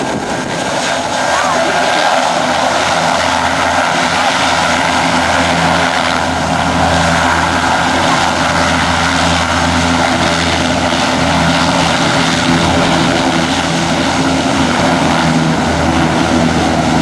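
A loud propeller engine of a Fire Boss firefighting aircraft drones continuously and close, a heavy steady roar with a rhythmic throb throughout, voices faint beneath it.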